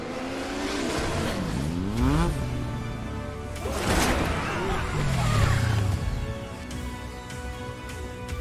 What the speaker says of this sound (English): Oh, it's Cloud on a motorbike.